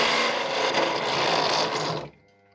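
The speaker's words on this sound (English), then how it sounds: "So step drills really require a lot of torque, and this machine really isn't, you know, made for this kind of shenanigans." A step drill bores through clamped brass sheet on an underpowered machine, a loud, dense, whirring grind that holds steady for about two seconds and then cuts off abruptly, leaving a faint hum.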